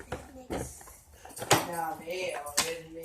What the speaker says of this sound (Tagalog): the next one is the cutlery set